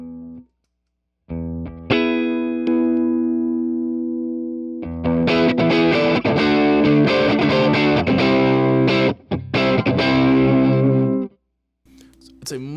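Electric guitar driven through a Super AT mod pedal at saturated high gain, with a single ringing note, then thick distorted chords that sustain loudly before cutting off, and a brief quieter strum at the end.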